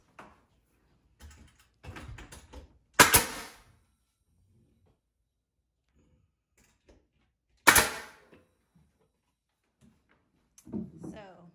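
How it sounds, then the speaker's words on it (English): A nail gun run from a mini air compressor fires into pine board shelves, two sharp loud bangs several seconds apart amid quieter handling clatter, with speech around them. "mini air compressor, nail gun, makes the job easy and fun."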